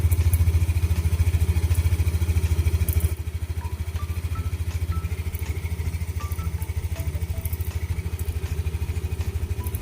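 A Yamaha Nmax V2 scooter that had stalled and would not restart runs at idle close by, its engine holding a steady low, even putter that drops slightly in level after a few seconds and settles into a smooth idle.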